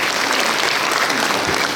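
Steady applause from a seated audience at a redevelopment union's annual general meeting, dense and even throughout with no pauses, filling the room without any talk over it.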